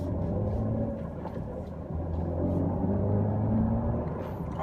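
A 2016 Chevrolet Camaro with a manual gearbox cruises around a 25 mph racetrack, probably held in third gear, giving a steady low engine rumble and road drone close up throughout with no talk.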